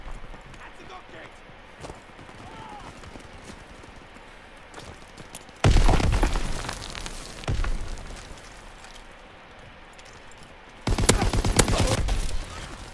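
Gunfire in Call of Duty WWII, heard as dense bursts of rapid shots in two loud stretches over a low, busy battlefield background, with a voice speaking between them.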